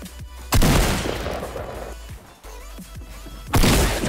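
Rocket launcher fire in Fortnite, with two loud, sudden blasts about three seconds apart, each one decaying into a rushing rumble, plus lighter clatter in between.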